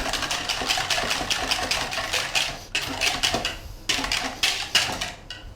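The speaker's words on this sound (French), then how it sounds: "Et je vais mélanger." Rhythmic whisking of a quiche filling of cream, milk and pepper clatters against the bowl in quick, regular strokes, close and fairly loud, alone without speech.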